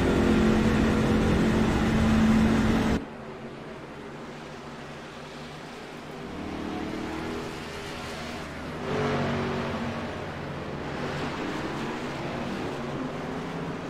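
A race car engine in iRacing drones on throttle, loud at first and then cutting to a lower, steadier hum that swells again partway through, heard alone without voices.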